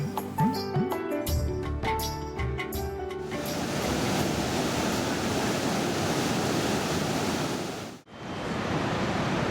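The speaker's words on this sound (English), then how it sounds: "Now we're down on the river, we just walked along the stream" Continuous rushing water from a river in Tibet fills the scene, a steady broadband wash like a flowing stream, briefly dipping near the end; some clattering knocks come before it.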